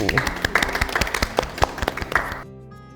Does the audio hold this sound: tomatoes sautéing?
no